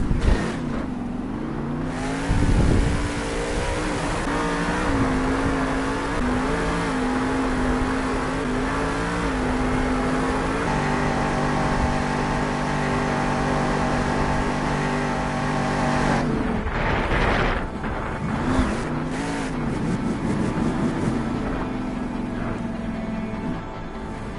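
Grave Digger monster truck engine roaring inside an arena, sustained loud revving with rising and falling pitch over about twenty seconds, a brief sharp blip near the middle, heavy and close.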